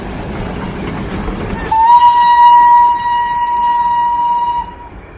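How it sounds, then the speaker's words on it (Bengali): Darjeeling toy train rumbling past, then a loud, long steady whistle blast of about three seconds over the rolling rumble, which fades out at the end. "toy train"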